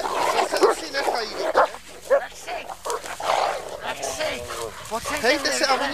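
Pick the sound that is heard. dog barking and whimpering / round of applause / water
dog barking and whimpering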